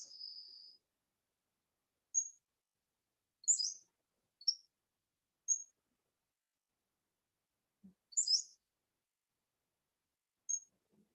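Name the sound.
birds tweeting outdoors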